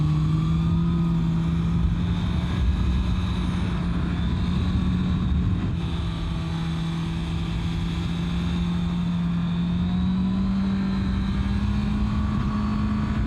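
Steady motorcycle engine drone held at a fairly constant pitch while riding, loud and continuous throughout with slight shifts in tone and wind noise, no voices.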